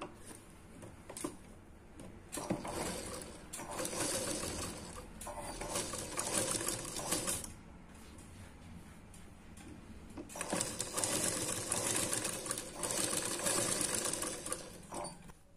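Sewing machine stitching a blouse back in a tailoring lesson: bursts of rapid mechanical whirring and ticking, faint and close, starting and stopping several times with short pauses between runs.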